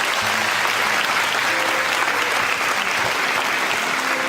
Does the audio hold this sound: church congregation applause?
yes